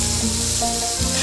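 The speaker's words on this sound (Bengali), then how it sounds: "এবার দিয়ে দিচ্ছি টমেটো কুচি।" Chopped tomato dropped into hot oil already seasoned with black cumin seeds for a spicy pomfret fish curry, giving a close, loud, steady sizzle and spatter throughout.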